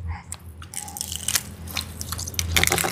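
Close crunchy chewing of fried tikling bird, a run of crisp bites and crackling chews over faint low background hum.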